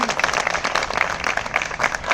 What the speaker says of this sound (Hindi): तालियां दीजिए।